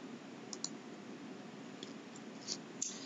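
Sharp, quiet computer mouse clicks, several scattered singles over a faint steady hiss in an office setting while navigating pharmacy billing software.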